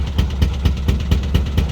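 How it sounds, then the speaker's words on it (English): A narrowboat engine with a fault idles on the Grand Union Canal, its steady rumble broken by regular, evenly spaced pops of air escaping from the air intake, about four per second, close and loud. "You hear that pop, pop, pop? Right, that's air coming out of the air intake."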